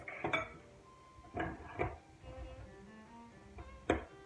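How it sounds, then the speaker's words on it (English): Bath bomb mixture being stirred in containers, heard as a few separate clinks and scrapes of a utensil against the containers, quiet and close, spaced irregularly with pauses in between. "Now just give each one a stir."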